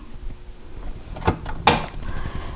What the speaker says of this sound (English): And this is your water door right here.